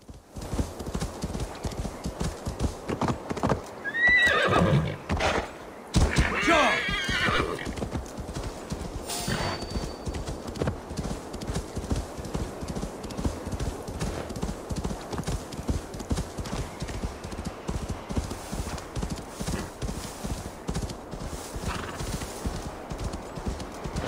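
In the game Assassin's Creed Valhalla, a horse gallops with a continuous rapid clip-clop of hooves, close and steady, and a loud neigh breaks in near the start.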